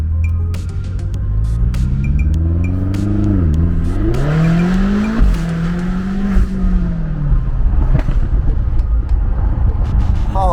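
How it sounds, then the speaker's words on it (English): A 750 hp BMW X6M with factory exhaust revs hard, its engine note climbing and dipping through loud, close pulls with crackling burble, then settling into a steady roar near the end. "I chose no on the burble. That's just factory burble"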